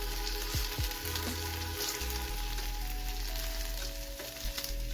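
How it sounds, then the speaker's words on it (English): Tater tots and bacon fry in oil in a pan in a shop, giving a steady crackling sizzle at moderate level with faint low tonal hum beneath. "Got tater tots and bacon going now."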